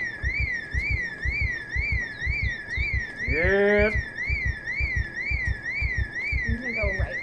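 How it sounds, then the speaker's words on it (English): Car alarm in the video game Project Zomboid wails in a steady rising-and-falling pattern over a regular low pulsing beat, loud and continuous, while someone briefly speaks over it. "Son of a bitch! It was an alarm."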